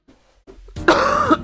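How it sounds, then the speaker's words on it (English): A cartoon cat character coughs, a quiet throat rasp first, then a loud harsh hacking burst that holds for most of a second and trails into a last short cough. "Oh god, this cough."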